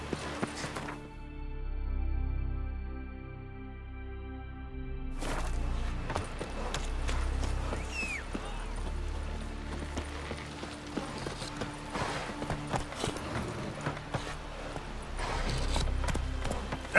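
A horse's hooves clip-clop steadily on the ground in The Witcher 3 video game, moderately loud and rhythmic, with ambient game music and sound effects behind.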